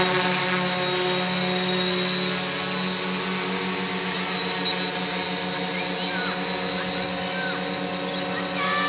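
HK X650F multirotor drone with new ESCs and a NAZA Lite controller, hovering in position and altitude hold: a loud, constant buzzing drone of spinning propellers with steady whining motor tones, close by and unbroken throughout.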